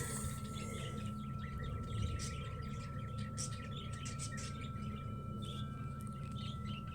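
Parakeets, African lovebirds and cockatiels chirp faintly in an aviary, with scattered short tweets over a low, steady background hum.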